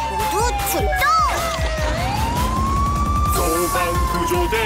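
An ambulance siren wails up and down over a busy, loud mix of bouncy electronic music and cartoonish sound effects in a children's cartoon song.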